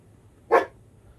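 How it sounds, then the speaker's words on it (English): A single short, sharp dog bark from a moderate distance in the video game Star Citizen, standing alone against a quiet background. "Listen to him over there. He's barking up a storm."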